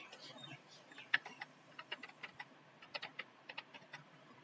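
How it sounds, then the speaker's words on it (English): Keys clacking on a computer keyboard while text is typed into Microsoft Word 2010, a steady run of quick, fairly faint taps with a few sharper strokes, close by and without talk. "Now type the second content, that is the Kirti Bhai"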